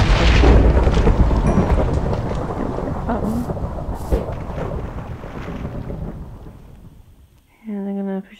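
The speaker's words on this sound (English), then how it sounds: "the lightning rainstorm just ended" Rolling thunder with steady rain during a lightning storm in Minecraft, loud broadband rumble dominating and slowly fading over several seconds, a brief distinct tone near the end.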